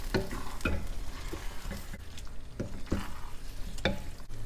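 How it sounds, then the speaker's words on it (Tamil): Fried chicken 65 pieces being stirred into a spicy chicken gravy in a pan, with repeated scraping strokes of a spoon over a soft steady sizzle, close and fairly quiet, no talking. "இப்போ பொரிச்ச சிக்கனை குழம்புல போட்டுக்கலாம். போட்டு நல்லா கிளறிடலாம்."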